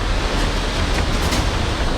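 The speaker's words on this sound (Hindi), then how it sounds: "देहरादून में सोंग नदी की उफनती लहरें" The flooding Song river in Dehradun rushes as a loud, dense, unbroken roar of surging water with steady intensity and no voices.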